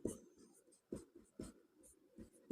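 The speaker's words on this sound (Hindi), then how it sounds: "तो यहाँ पर लिखेंगे x का मान" Pen strokes scratch on paper as a math solution is written out by hand, a quiet series of short irregular scrapes and taps close up.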